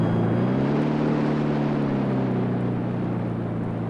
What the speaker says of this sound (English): I've reversed the engine so we can ease into our mooring, Mr. Bishop.